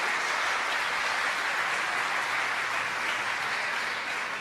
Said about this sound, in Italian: Diamole un applauso al Signore